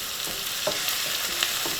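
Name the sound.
stirring carrots frying in a pan for fried rice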